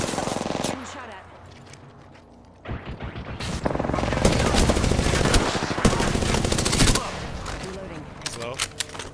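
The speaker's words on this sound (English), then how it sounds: "Getting shot at." Gunfire in Apex Legends on the Kings Canyon map: an opening burst, a brief lull, then sustained loud automatic fire and impacts from close by for several seconds, with a voice briefly heard.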